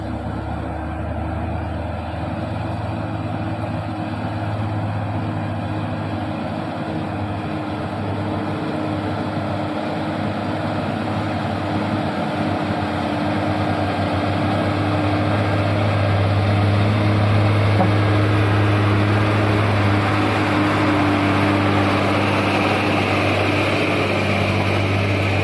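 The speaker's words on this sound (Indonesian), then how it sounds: "udah nanjak kembali truk Hino 500 putih" A white Hino 500 Lohan FM 260 TI truck labours up a steep, high hill, its engine holding a steady, loud low drone that swells slightly toward the end, with no voices.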